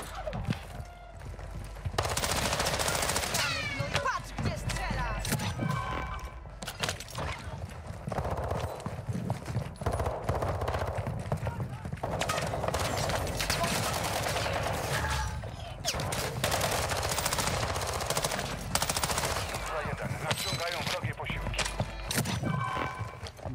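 Gunfire in Call of Duty Modern Warfare II's DMZ mode: dense, loud volleys and rapid bursts that keep going with short breaks, while players talk over the shooting.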